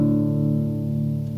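Bass strings of a guitar tuned to drop D ring out as a sustained, droning chord with the other strings muted, a steady close tone for the Vikings theme with no talking.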